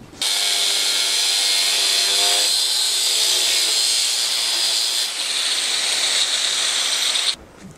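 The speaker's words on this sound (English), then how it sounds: "Using the Franken grinder to get the last part because it has a narrower diameter" A narrow-disc angle grinder grinds down an uneven offcut surface with a steady, loud, close whine that shifts pitch twice before cutting off near the end.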